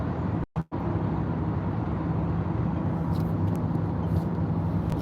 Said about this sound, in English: look at this traffic here. There's a lot of traffic going on here, right?